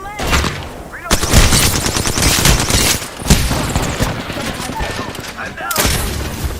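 Rapid bursts of automatic gunfire and explosions in an online shooter game play almost nonstop at close, loud range, with brief game voice callouts mixed in.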